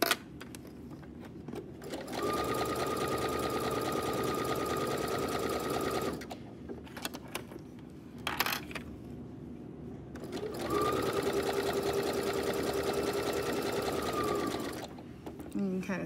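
A sewing machine stitching an exposed zigzag seam along a fabric edge, running in steady whirring bursts with short pauses between them, close and clear, with a voice talking over parts of it.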